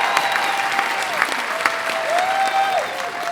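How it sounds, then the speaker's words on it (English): A live podcast audience bursts into loud, continuous applause with cheering, the clapping dense and sustained for a few seconds, with whistles on top. "Please give your loudest applause"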